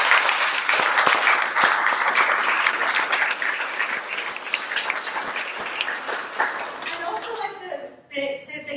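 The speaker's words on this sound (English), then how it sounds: "I'd like to encourage another round of applause for" A crowd at a panel event remembering an artist gives a long round of applause that gradually thins out, followed by a speaker's voice.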